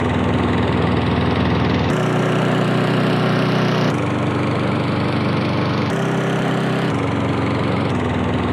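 Engine rumble sample layered under guitars, a loud, steady, buzzing motor drone that shifts pitch in blocky steps every second or two, with no voices.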